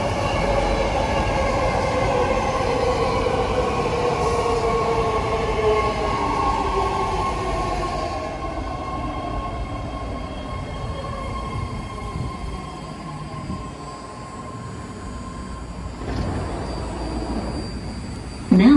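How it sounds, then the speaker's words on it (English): An 8-car, 3-door BART Fleet of the Future Orange Line train pulls into San Leandro station, its rumble and descending whine drawing close and slowing, ending with a brief squeal. "Here he is, the train approaching platform number 1."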